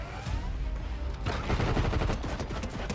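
Gunshots in the video game Fortnite, with rapid bursts of automatic fire that build into a dense, loud volley and continue steadily to the end.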